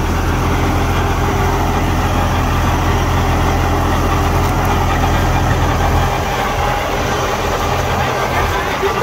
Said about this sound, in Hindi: ट्रैक्टर बिल्कुल ही स्मूथ चल रहा है भाई